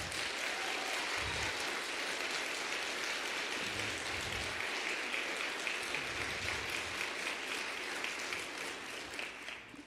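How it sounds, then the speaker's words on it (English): A gathered audience gives sustained, enthusiastic applause to thank a man for his work in Togo: thick, continuous clapping that holds steady for several seconds, with a few low thumps underneath, before tapering off at the end. "I want you guys to give Kofi some applause in thanking him for what he does for us"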